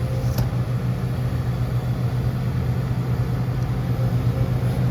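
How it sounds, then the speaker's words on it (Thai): Four-cylinder engine of a CE machine running at a steady low hum, moderately loud and unchanging, with no voices over it. "มาไปดูการทำงานของเครื่องยนต์สี่สูบครับ CE พลังสี่สูบ"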